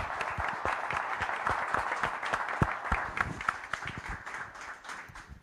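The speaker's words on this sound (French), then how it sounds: "à m'accompagner dans l'ouverture de ce FAB 3A avec vos applaudissements nourris avant de passer la parole à Olivier Biscaye." An audience applauds at the opening of an agricultural conference, many hands clapping in a steady, lively patter that carries on throughout and stays moderately strong.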